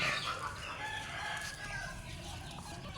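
At a Thai poultry farm with several pens, a rooster crows and hens cluck faintly and steadily through a low, continuous background wash, with no clear talk.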